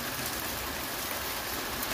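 Steady rain falls in San Diego during a late February storm, a dense, even hiss of drops that holds constant and fairly close throughout, with no voices.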